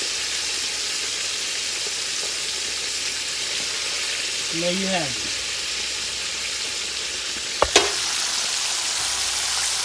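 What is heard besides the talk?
chicken frying in a cast iron skillet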